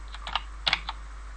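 Several keys are pressed on a computer keyboard while working in waveform editor software, a few crisp, close clicks in two small bursts with no talk.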